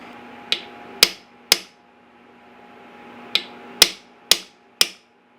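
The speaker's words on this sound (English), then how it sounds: "I'm going to drive the male portion of the rivet" Hammer striking a rivet to set the handle of a forged fantasy sword, seven sharp metallic blows in two groups of three and four, close and ringing, with no talk.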